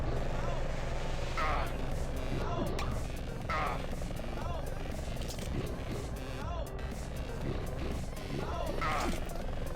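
A steady helicopter rotor in an Xbox Live Indie game drones continuously throughout, with a voice speaking over it at intervals.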